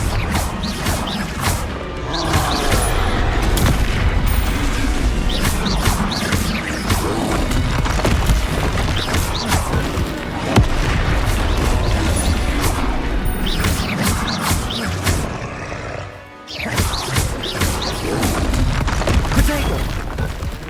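Booming blasts and crashing explosions from the Confringo fire spell in the Hogwarts Legacy video game, loud and nearly continuous with whooshes, a brief lull, then further impacts, with a voice heard now and then.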